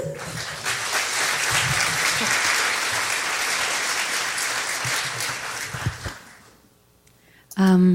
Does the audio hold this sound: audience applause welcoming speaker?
yes